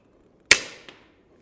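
A suppressed FX Impact M3 .25 caliber air rifle fires a slug once, giving a single sharp, quiet crack with a short decaying tail and a faint second tick just after.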